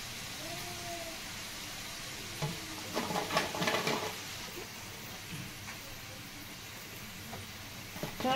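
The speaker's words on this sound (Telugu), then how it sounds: "మళ్ళీ ఇప్పుడు రెండోసారి ఫ్రై చేసుకుందాం" French fries sizzle in hot oil during their second fry, a steady soft hiss broken by a few brief stirring clatters in the middle, with no voices over it.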